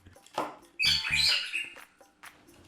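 A bird gives a couple of sharp, bright squawks with harsh chirping calls, close and fairly loud amid short quiet gaps.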